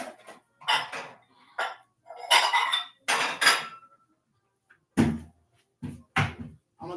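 Dishes, pots and cutlery clattering in a home kitchen where pineapple is being cut, a series of sharp clinks and knocks in separate bursts with short pauses, close and fairly loud.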